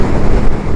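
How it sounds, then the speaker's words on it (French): Strong wind buffets the microphone on a 125 cc motorcycle ride, a dense continuous roar with no voices over it. "il y a tellement de vent que je penche à droite"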